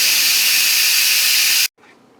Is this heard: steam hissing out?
yes